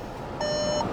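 A 2022 VW Tiguan SE R-Line starts up and gives a single clear electronic dashboard chime lasting about half a second over a low cabin hum.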